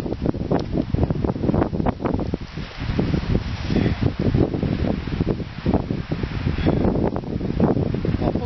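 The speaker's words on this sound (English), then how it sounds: "Hopefully that wind's not too tough on that microphone, that camera." Strong gusts buffet a camera microphone outdoors on a windy day, a steady loud low rumble with repeated bursting thumps and crackly rustle, no speech.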